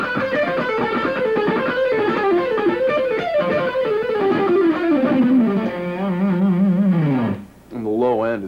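An electric guitar fitted with DiMarzio PAF Pro pickups, played loud through heavy distortion with sustained, bending lead notes and a slow downward slide near the end.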